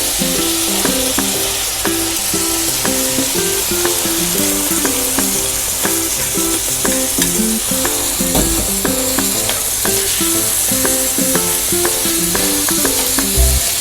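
White beans cooking in a hot pot give off a loud, unbroken sizzle that runs for the whole stretch, dense and close, with no talking over it.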